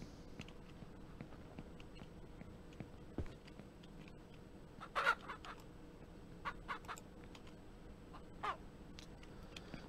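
Chickens in the Ranch Simulator farming game give off a few short clucks and caws over a steady low background hum, with scattered clicks and no talk.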